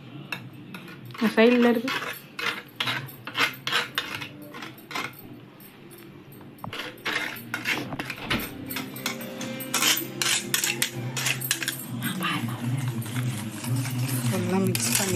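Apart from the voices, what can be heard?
beating eggs with a utensil for egg pasta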